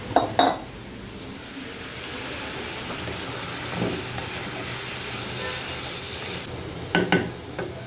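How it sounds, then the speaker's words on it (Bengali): Small-cut potato pieces frying in hot oil give a steady close sizzle and hiss, with brief clatters of a utensil against the pan at the start and near the end. "এখন এই আলুগুলাও দিয়ে দিব তাহলে তেলের সাথে একসাথে ভাজা হয়ে যাবে"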